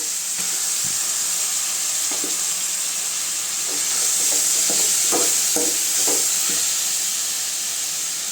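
Tomatoes frying in a pan with onions and ginger-garlic paste for egg gravy, a steady hissing sizzle with soft scrapes and taps of a spoon stirring through it.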